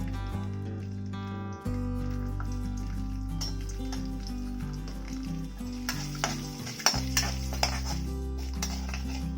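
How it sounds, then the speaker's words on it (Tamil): Mustard seeds, urad dal and cumin crackling and spluttering in hot oil, a dense run of sharp pops and sizzle over background music, close and fairly loud, with no talking. "கடுகு நல்லா பொரிஞ்சிருச்சு"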